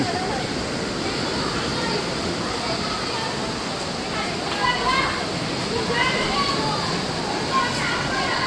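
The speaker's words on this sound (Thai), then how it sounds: "ตอนนี้เราอยู่ชายหาดตูบันเลยนะ ตรงที่เขาออกไปเล่นเซิร์ฟ บอกเลยคลื่นโหดจริง" Big surf crashing at Suluban Beach, Uluwatu, Bali: a steady, loud roar of breaking waves fills the whole clip, with a few swells rising and falling over the constant wash.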